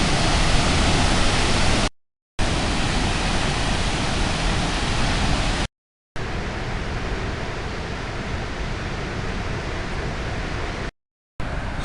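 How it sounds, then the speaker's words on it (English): A large waterfall roars with a dense, steady broadband rush, loud and unbroken apart from a few short silent gaps where the sound drops out entirely. "Said to be the largest waterfall south of the Niagara and east of the Mississippi."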